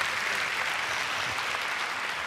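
Audience applauding at a live stand-up comedy show in Abidjan, a continuous, evenly sustained clatter of many hands at moderate loudness with no voices over it.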